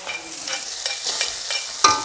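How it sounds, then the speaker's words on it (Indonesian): Shallots frying in a pan for nasi goreng tiwul, a steady sizzle with repeated stirring scrapes at a close, moderate level and no talking. "Brambangnya tak goreng nih."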